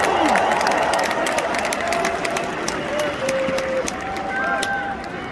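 An arena crowd at a Lakers pre-game ceremony in Crypto.com Arena applauds and cheers in a steady, dense roar of claps and shouts, while an amplified announcer voice talks over it throughout.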